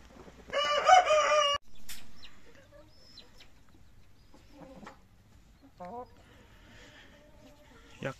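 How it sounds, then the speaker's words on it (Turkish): A rooster crows loudly and close by in one long call, followed by quieter clucking and scattered chicken sounds. "Şu siyah da horozumuz"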